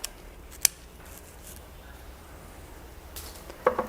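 Scissors cutting dried bunny tail grass stems, a few sharp, isolated snips spaced across a quiet room, with faint handling rustles in between.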